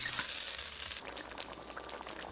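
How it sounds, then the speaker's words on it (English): Tomato with ketchup, sugar and water stir-frying in a wok, a soft steady sizzle that drops quieter partway through, with faint stirring scrapes and no talk. "Stir fry and cook until softened for about 2 minutes."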